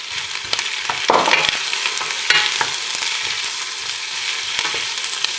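Onions sizzle steadily in hot oil for a fennel velouté, a dense close frying hiss with a few sharper crackles and spoon scrapes, no voices.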